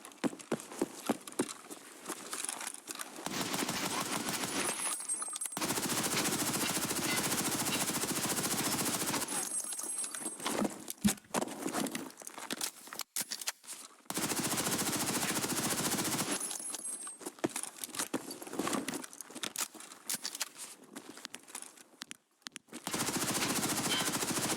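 Bursts of automatic gunfire from hip firing a weapon in a video game, long rattling volleys separated by short gaps, loud and close throughout.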